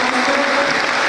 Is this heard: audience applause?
yes